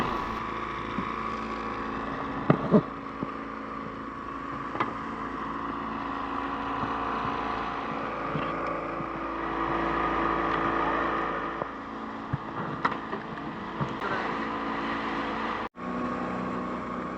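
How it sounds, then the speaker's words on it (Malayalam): Fishing boat engine chugging at sea in the Arabian Sea, a constant mid-level drone with a few faint knocks and thuds, ending with a brief dip near the close. "ഓടത്തിന്റെ എഞ്ചിൻ ഇതാണ് ഈ മെഷീൻ വെച്ചിട്ടാണ് ഓടിക്കുന്നത്"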